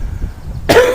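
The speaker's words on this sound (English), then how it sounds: "Excuse the cough." A single sharp cough bursts out near the end of a short, otherwise quiet moment, loud and close with a noisy, rasping tail.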